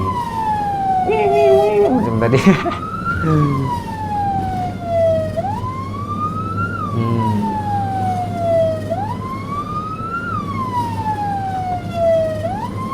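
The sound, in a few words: ambulance siren on a Malaysian road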